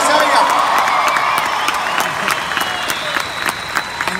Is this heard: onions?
no